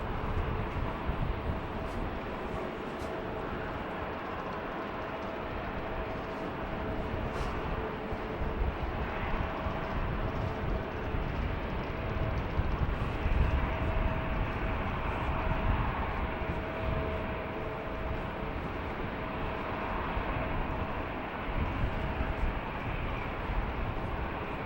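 A jet landing on the Polderbaan runway at Schiphol Airport on a foggy night produces a distant, steady engine roar and rumble that lasts the whole stretch without clear peaks.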